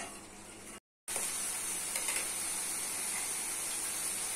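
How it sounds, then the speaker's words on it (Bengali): Chopped tomato sizzles in a spice mix in a pan, a steady close hiss of frying that drops out briefly and then continues alone. "মশলা কষা হয়ে গেছে, দিচ্ছি টমেটো কুচি।"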